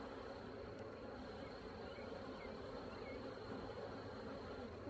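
Honey bees swarm around an opened hive during a May inspection of a small nuc colony, a dense continuous buzzing hum, fairly close and even throughout, with no talk.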